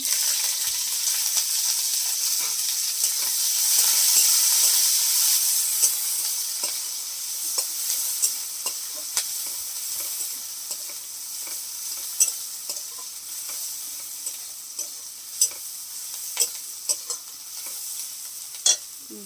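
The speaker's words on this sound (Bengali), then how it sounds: "যে পেঁয়াজ আর কাঁচা লঙ্কা নিয়েছি এটাকে আমি কড়ার মধ্যে দিয়ে দিয়ে দিলাম" Onion and green chili fry in a wok with a steady broad sizzle, louder for the first few seconds, while a utensil stirs and scrapes with repeated short clicks throughout.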